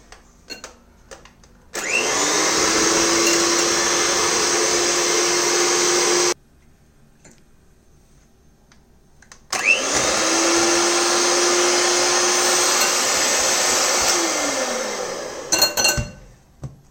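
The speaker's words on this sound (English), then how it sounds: "And now we will again whisk it." An electric whisk mixes carrot cake batter with oil in a glass bowl, running in two loud, steady whirring bursts with clinking against the bowl, separated by a short pause.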